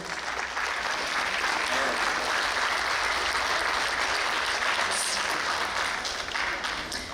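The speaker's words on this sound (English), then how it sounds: "maybe a huge round of applause for our elected officials before you" Sustained applause from a large crowd, dense steady clapping that fills the whole stretch without a break.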